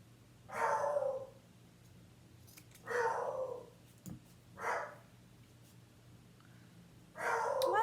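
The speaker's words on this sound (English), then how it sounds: "Do you guys hear my dog?" A dog barks indoors some distance off, five drawn-out barks spaced a second or two apart over quiet room tone.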